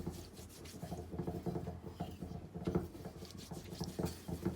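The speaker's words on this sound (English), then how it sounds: "I gently spread the soap solution around the entire wok." Bare hands rub dish soap solution over the surface of a seasoned cast iron wok, giving a steady, close, soft squeaky rubbing and patter that runs continuously with no talk.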